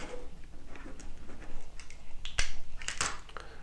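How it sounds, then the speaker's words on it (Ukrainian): Quiet rustling and handling noises, then a couple of crisp snips as scissors cut through braided fishing line, close by. "Ножиці шнур ріжуть на раз, два."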